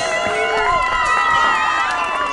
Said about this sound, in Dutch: Applaus voor het buurtorkest.